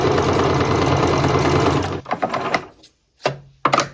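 A sewing machine stitches a heavier zigzag pattern in a rapid, loud mechanical whir for about two seconds, then stops, followed by a few short clicks and brief stuttering bursts.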